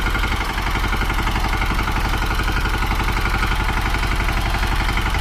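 A tractor engine chugs loud and close in a steady, rapid mechanical clatter while the tractor is driven, with no voices.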